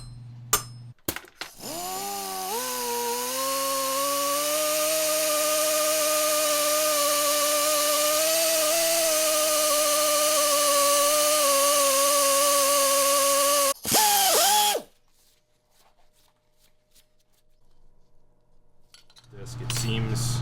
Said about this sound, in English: A hole needs to be drilled in the side of the casing to allow for the electronic wiring to pass through.